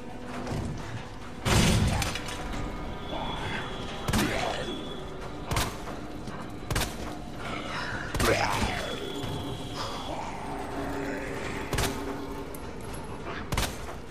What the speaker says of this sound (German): So, jetzt kommen auch die Zombies. Wollen wir mal gucken, wie das wird mit dem Schießen.